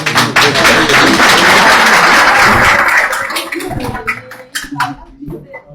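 A crowd claps loudly in sustained applause at an election certificate ceremony in Turkey, thinning out into scattered individual claps, with voices mixed in throughout.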